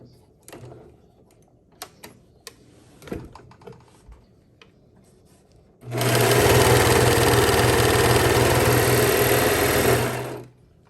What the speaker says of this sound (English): I'm gonna serge this edge together with a 1/2 inch seam allowance